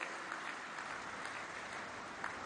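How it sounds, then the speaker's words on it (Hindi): Audience applause greeting the dedication and foundation-stone laying of development projects in Jabalpur, Madhya Pradesh: a steady, dense wash of clapping from a large crowd, sustained evenly throughout at moderate volume. "तो मैं चाहूंगी कि एक बार आप सभी लोगों की तालियों की गड़गड़ाहट के साथ इन परियोजनाओं का अभिवादन हम करें।"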